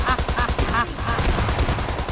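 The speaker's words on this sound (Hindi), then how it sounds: "ये पीछे से कौन गोली चला रहा है?" Rapid automatic gunfire rattles steadily from behind in a shooting video game, loud and close, with someone speaking over it.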